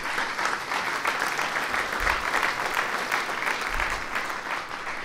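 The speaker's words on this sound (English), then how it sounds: "Let's have a round of applause again from the panelists." A conference audience applauds panelists with steady, dense clapping that holds at an even level for several seconds, mid-distance, with no talk over it.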